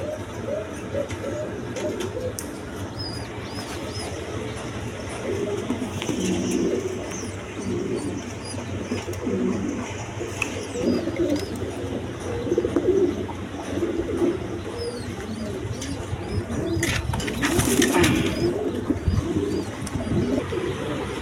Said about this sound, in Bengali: এক পেয়ার আপনার রাজগোল্লা কবুতর আছে রেড কালারের মধ্যে